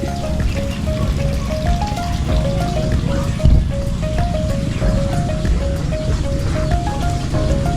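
A backyard faucet pours water without pause, a steady close splashing rush that holds level throughout and stays clear of talk.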